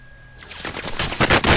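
Rapid automatic gunfire in Call of Duty Cold War, a quick burst of close, loud shots erupting after a brief quiet lead-in and rattling on in a dense, even rhythm.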